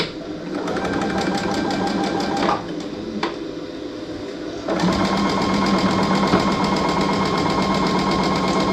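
A sewing machine stitches in a home sewing room with a loud, rapid, even mechanical whir. It pauses briefly partway through, then resumes at a steady pace.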